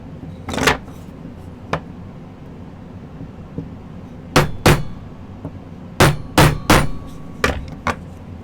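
A small silver pendant piece is hammered to dome it, giving about ten sharp metallic taps that come singly and in short clusters, close and fairly loud.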